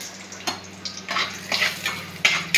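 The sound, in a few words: frying lentil dumplings (bori) until red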